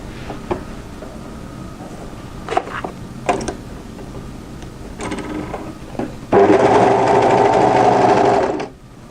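Overlocker serging a knit dress side seam, a steady mechanical whir running loud and close for a couple of seconds near the end, preceded by quieter handling clicks and rustling fabric.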